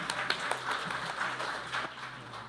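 A modest round of applause at an academic seminar, scattered hand claps from a small audience, fairly soft and a bit distant, fading toward the end.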